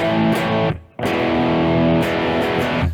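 Distorted electric guitar plays the chorus chords of a song, loud and sustained, with a brief gap near the start before the heavy strummed chords resume.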